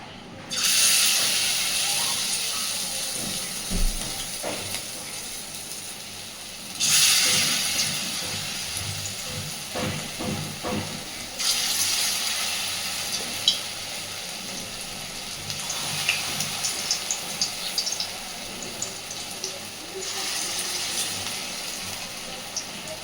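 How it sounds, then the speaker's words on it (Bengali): Pointed gourd kofta balls sizzle and hiss in hot oil in several surging bursts, with occasional clinks and scrapes, close and steady. "এইবার সমস্ত কোফতাগুলোকে আগে ভেজে নেব।"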